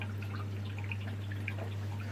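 Water drips slowly from a single tap into a shrimp tank setup, a faint steady trickle with soft irregular drops over a constant low electrical hum.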